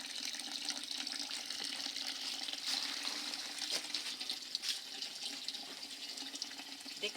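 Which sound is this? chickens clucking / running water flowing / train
running water flowing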